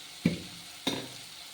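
Masala spices for goat bone soup hit a hot pan in two separate bursts, each a sharp sizzling hiss with a quick stir, close and distinct against a quiet background.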